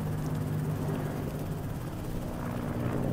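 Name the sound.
helicopter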